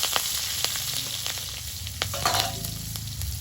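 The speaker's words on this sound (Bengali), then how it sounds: "তেলের মধ্যে দিচ্ছি কালো জিরে চেরা কাঁচা লঙ্কা" Nigella seeds and slit green chili sizzling in leftover fish-frying oil in a wok, a loud, bright sputtering hiss punctuated by sharp crackles and pops, close and without speech.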